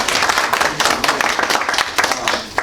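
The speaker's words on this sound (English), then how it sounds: "give him a round of applause for the job" A small group at a fire police training session claps briefly, an irregular patter of hand claps at close range that stays steady for a couple of seconds.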